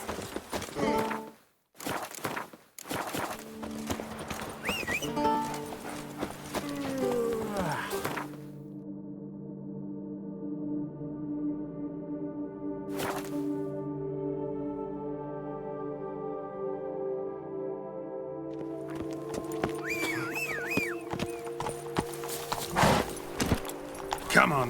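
Hooves of the horse Roach in The Witcher 3 video game, soft clip-clop and footsteps at a walk under a sustained musical drone, with dialogue voices at the start and end.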